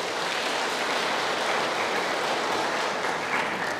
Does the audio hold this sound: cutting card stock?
no